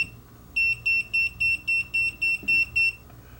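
A Tesmen TCM300D clamp multimeter's non-contact voltage detector beeps near a live high-voltage wire, giving about ten evenly spaced, shrill electronic beeps in quick succession, loud and close over quiet room noise.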